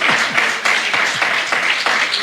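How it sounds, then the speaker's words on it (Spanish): A congregation at a Bible study applauds, loud, close, continuous clapping with a roughly rhythmic pulse of stronger claps. "Dar un aplauso al Señor."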